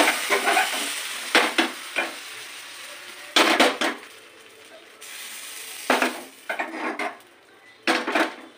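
Rice-flour batter fries in a wok for lacy chakli, with a soft continuous sizzle broken by repeated metallic clatters of a ladle and tongs against the pan.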